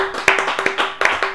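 A few scattered hand claps ring out near and sharp in an uneven rhythm, acclaiming the winner of a knockout-round match at the Zonart club, with a faint steady tone underneath.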